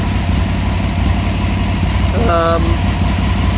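An Aprilia motorcycle engine idles at slightly raised throttle, a steady, loud, close low rumble throughout, with a brief tonal beep partway through.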